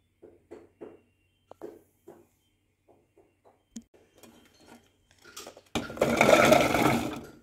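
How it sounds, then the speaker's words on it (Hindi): An electric chopper whirs loudly as it chops peeled garlic for a ginger garlic green chili paste, a dense motor burst in the last second and a half after a series of small clicks and handling knocks. "अब हम इसको चॉप करते हैं।"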